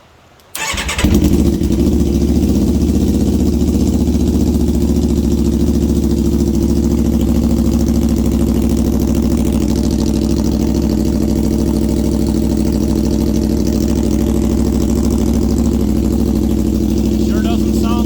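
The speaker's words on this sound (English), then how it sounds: "see what she sounds like first startup" A 2021 Aprilia RSV4 Factory fitted with a Leo Vince Corsa Carbon exhaust fires up after a brief silence and settles into a loud, steady, deep idle that runs unbroken, close to the bike.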